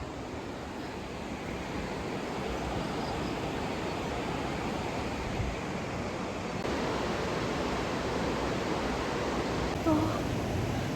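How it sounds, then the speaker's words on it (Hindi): Steady broadband rush of a riverside waterfall near Kasol in Himachal, a constant close roar of falling water filling the whole scene, with a brief faint voice near the end. "आप जैसे झरने की बस आवाज़ सुन लो यार।"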